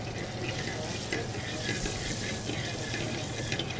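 A pat of butter melting into hot olive oil in a pan before searing pork belly, giving a quiet, even sizzle with faint crackles throughout.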